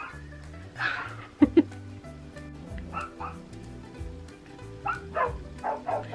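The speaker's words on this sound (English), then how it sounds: "my neighbor's dogs weren't barking in the background" Neighbor's dogs bark in the background during a beauty product try-on: a few short, sharp barks sound faint and distant, with quieter yips scattered through, under a steady low hum.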